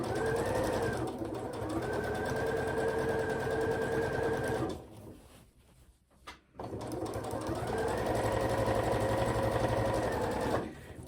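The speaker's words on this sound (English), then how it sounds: "my stitching is now going to go below those ribbons" A home sewing machine stitches fabric below attached ribbons on an advent calendar with fold-up pockets, running in steady, close, loud bursts with a brief pause in the middle before the whirring stitching resumes.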